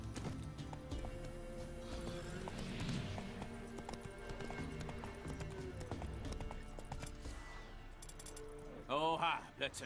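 Horse hooves clip-clop steadily while riding in The Witcher 3, a continuous trotting rhythm under game music and ambience, with a brief whinny near the end.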